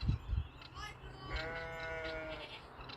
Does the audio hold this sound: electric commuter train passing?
no